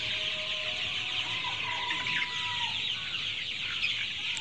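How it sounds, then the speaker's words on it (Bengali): Brown chickens on a farm clucking quietly on a dull, overcast morning, the soft calls scattered over a steady background hum. "মুরগি"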